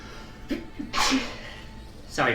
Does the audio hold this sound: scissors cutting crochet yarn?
no